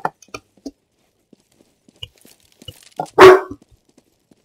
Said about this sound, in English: My dogs are in the background, so if you hear them barking